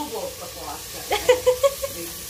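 Soft sizzling and frying of Memon biryani in a pan, with a few light clinks and stirring taps, while indistinct voices murmur in the background.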